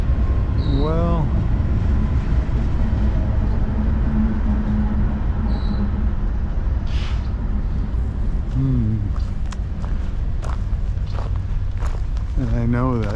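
Canadian Pacific freight train rolling past at a rail yard, a steady loud rumble of wheels with occasional high squeals and clanks, footsteps nearby and people talking over it.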